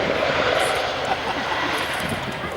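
A Chinook helicopter flies at the Duxford airshow, giving a steady, loud, broadband roar of rotor and engine noise that holds continuously without a break.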